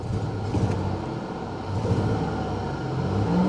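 A Chevrolet Impala engine runs at a steady, smooth idle up close, a continuous low rumble with no misfire stumbles and no talking.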